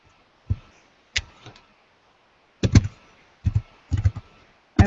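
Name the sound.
typing on a computer keyboard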